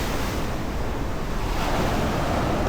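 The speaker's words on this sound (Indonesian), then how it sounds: "Ombaknya baru bener-bener gede guys." Big ocean waves pounding at Torohudan beach in Jogja around sunrise, a loud continuous roar of surf with wind buffeting the microphone and no other sounds.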